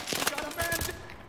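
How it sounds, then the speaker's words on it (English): A Bulldog shotgun fires in Call of Duty Advanced Warfare, giving several rapid close blasts in a quick cluster, with game noise beneath. "How does the bulldog shoot that far? I mean, the bulldog's a shotgun."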